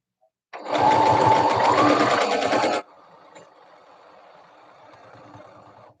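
A sewing machine runs in one loud, steady burst of rapid stitching through fabric, about two seconds long, then stops and leaves a low background hum.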